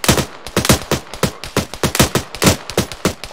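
Rapid bursts of machine gun fire from a BRDM-2 armored vehicle in the Arma video game, loud and close, firing in quick irregular volleys throughout with no talking.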